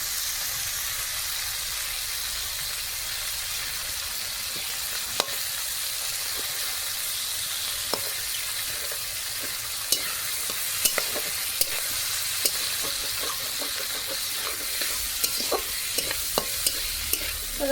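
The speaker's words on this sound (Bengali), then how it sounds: "তো দেখো ভাজা ভাজা হয়ে গেছে সবজিগুলো আমার।" Vegetables fry with a continuous loud sizzle in a pan, while a utensil scrapes and taps against the metal in scattered clicks as they are stirred.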